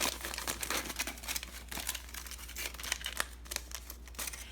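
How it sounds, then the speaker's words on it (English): Aluminium foil is folded over a plant leaf, making close, crisp crinkling and rustling in irregular bursts over a low steady hum. "I'm going to fold the foil over."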